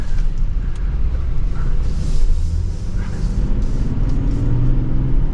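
A steady, smooth engine drone with low rumble from inside a moving 2024 Range Rover Sport Dynamic, continuous and fairly loud with no talking.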